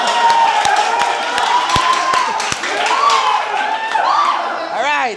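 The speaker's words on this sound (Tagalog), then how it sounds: "isang palakpak pa" A live audience at a physique check claps in a steady burst of applause that carries on under someone speaking into a microphone, loud and close throughout.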